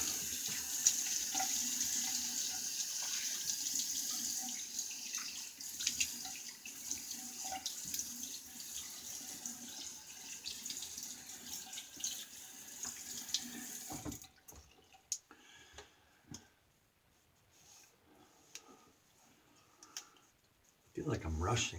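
Tap water runs steadily into a sink while a safety razor is rinsed under it, a continuous hiss for most of the clip, then it cuts off and leaves quiet handling clicks.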